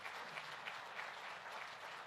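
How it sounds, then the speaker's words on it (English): Steady applause from an audience at a National Association of Manufacturers board of directors address, a continuous wash of clapping with no talk over it, fairly quiet and even throughout. "you could give them a round of applause if they haven't gotten more than a few"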